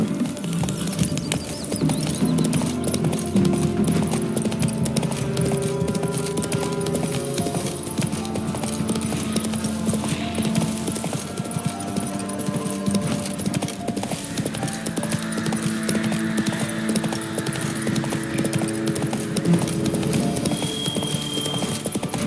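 Horse hooves in The Witcher 3: Wild Hunt galloping at a steady, rapid rhythm over a low rumbling game soundscape, close and continuous; the horse gives a brief whinny along the way.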